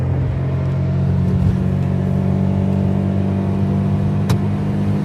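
1999 Honda Vamos kei van engine revving in third gear on a highway, a loud, steady droning hum with constant road rumble heard from the cabin, no talking.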